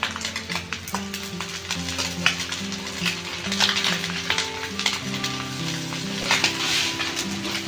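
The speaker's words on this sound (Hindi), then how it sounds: "ये दूसरे साइड में फ्राई हो रहा है" Small fresh fish coated in masala fry in a pan, a close steady sizzle with occasional light taps, while background music plays along.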